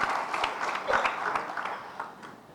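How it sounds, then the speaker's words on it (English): An audience at a signing ceremony applauds, a soft, fairly distant patter of many hands that thins out toward the end. "Hold your applause."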